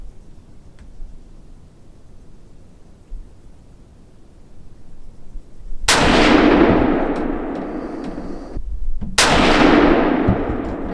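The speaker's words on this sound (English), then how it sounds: "now we're going to go on the center of the big square target" Two loud, close rifle shots from a Savage Axis 110 Hunter XP chambered in .350 Legend, each a sharp crack with a long decaying echo, spaced about three seconds apart after quiet outdoor ambience.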